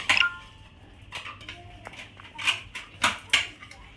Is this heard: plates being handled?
yes